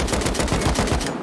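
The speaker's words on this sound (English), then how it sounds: "He's shooting exactly where you are through the rock." Rapid automatic gunfire in a raid-style online survival shooter game, a dense burst of about a dozen quick shots in steady rhythm, loud and close, lasting just over a second.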